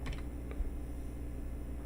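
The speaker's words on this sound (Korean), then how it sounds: "키보드에서 화살표 눌러주면" A few quick, light taps on computer keyboard arrow keys land at the very start, then a short pause and one more press, all quiet and close against faint room hum.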